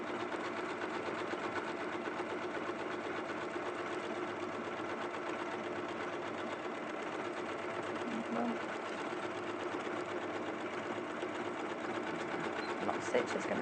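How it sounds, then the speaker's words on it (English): A computerised sewing machine stitches a decorative pattern with a steady, fast mechanical whirr that runs unbroken at moderate volume while a voice talks quietly underneath. "as soon as you start sewing, just press the lock stitch and it will only do one pattern repeat for you"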